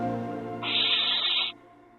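A young barn owl chick, recently fledged and still fed at the nest by its parents, lets out one loud, harsh, raspy screech lasting about a second, close up over a low steady background hum.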